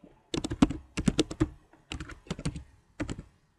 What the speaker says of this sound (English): we've got to go back and type this